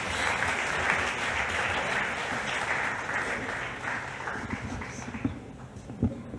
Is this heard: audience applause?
yes